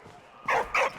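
Two short, close barks from a puppy in the video game Valiant Hearts follow a quiet lead-in.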